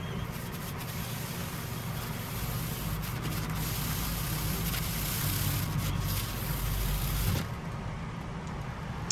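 Electric awning on a 2024 CrossRoads Zinger Lite ZR18QB travel trailer extending with a continuous, even motor whir and rolling fabric rustle, loud and close, easing off near the end.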